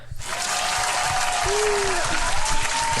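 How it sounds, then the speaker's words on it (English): A studio audience breaks into loud, steady applause that starts abruptly and continues as a dense wash of clapping, with a faint voice in the background. "One more applaud."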